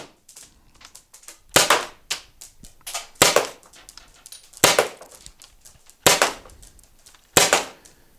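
An Umarex T4E HDB launcher fires at a target box. About six sharp, loud cracks come at irregular intervals, each trailing a brief echo, with quieter clicks and handling noise between shots.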